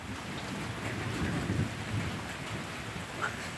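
Heavy rain pours onto a flooded yard in Northeast Florida, a dense, continuous hiss of close drops with faint thunder-like rumbles beneath and no talking.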